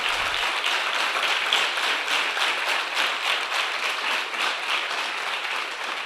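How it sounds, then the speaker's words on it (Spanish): A church congregation applauding steadily, dense clapping that holds at an even level throughout with no voices over it. "Dale un aplauso al Señor por esa bienaventuranza"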